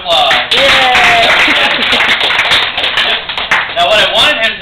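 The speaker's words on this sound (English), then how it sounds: "we have a big round of applause." Audience in the stands at a killer whale show in a marine park claps in a loud, close burst of many hands, mixed with chatter and a trainer speaking over it.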